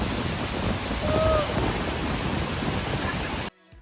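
Niagara Falls thunders in a dense, steady roar of falling water that fills the scene without a break, then cuts abruptly to near silence at the very end.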